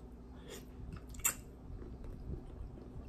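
Shrimp being chewed during a mukbang, quiet close mouth sounds with soft bites and a sharp crunch in the middle, faint and without talk.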